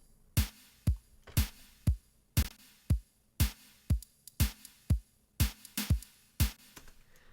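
A sampled drum loop plays alone: a steady pattern of punchy kicks with crisp, bright hi-hat hits between them, repeating evenly and fairly loud.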